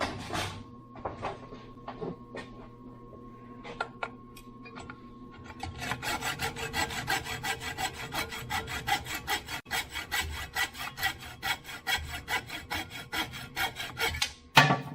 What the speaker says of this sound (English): you look around for your trusty hacksaw